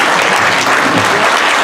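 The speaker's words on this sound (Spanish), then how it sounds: "Aplauso." Sustained applause from an audience at a forum on electoral system challenges, dense and steady throughout with no voices over it.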